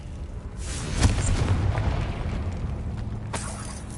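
A Confringo fire spell explodes in a Harry Potter wizarding video game, a single loud boom with rumbling tail followed by a second sharp burst a few seconds later, over a steady noisy background.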